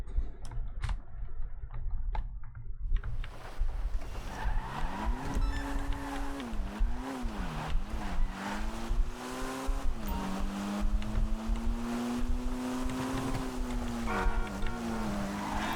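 A tuned car engine in GTA V Online revs and shifts, its pitch climbing and dipping through gear changes, then holding a steady drone, with keyboard clicks heard faintly at the start.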